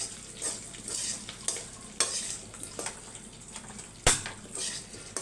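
A spoon scrapes and stirs potatoes through a hot oil tempering in a pan, with soft sizzling under repeated clinks and scrapes against the metal, one sharper knock standing out near the end.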